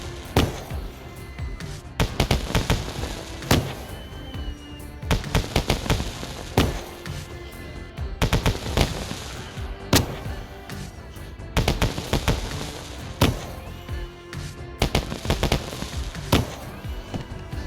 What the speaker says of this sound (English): after all the fireworks have gone off